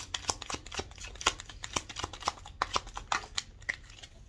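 Tarot cards are shuffled by hand in a quiet room, a soft, close series of rapid riffling snaps and flicks in an uneven rhythm with no speech.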